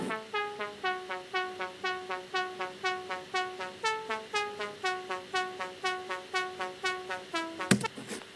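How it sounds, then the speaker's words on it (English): The original synth lead from a song plays a steady stream of plucky, quickly decaying notes in a repeating melodic pattern, alone and fairly soft, ending with a brief bright crash-like burst. "I used the original sound to make my own version of it. It used to sound like this."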